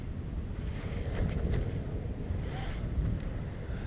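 Wind gusting steadily across an open beach while a four-line kite is flown, a low rumbling buffet against the microphone that swells and eases without pause.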